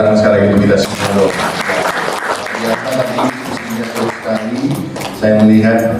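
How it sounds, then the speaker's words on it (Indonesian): Audience applause fills a school discussion session on vision and change initiatives, steady clapping from a seated crowd running throughout while an amplified voice speaks over it. "Berikan tepuk tangan sekali lagi untuk kita semua."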